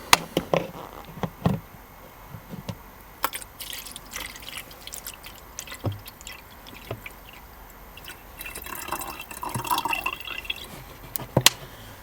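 Water poured to top up a nearly empty small tank of an HHO cell setup, heard as scattered drips, splashes and light knocks with a bubbling fill sound late on, close and fairly quiet, no voices.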